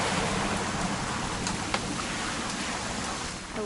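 Steady, dense rain in the game What Remains of Edith Finch, a constant hiss of drops on surfaces with no breaks, fairly close and even throughout.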